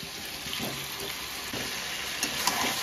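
Chicken frying in a pan with onions and whole spices for gota masala chicken, a steady soft sizzle with faint stirring scrapes and clinks, close and quiet, no voices.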